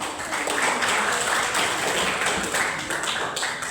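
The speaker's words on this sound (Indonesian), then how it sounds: "Oke, berikan tepuk tangan" A classroom of seventh-grade students applauds, a dense, steady patter of many hands clapping close by at even loudness, with no speech over it.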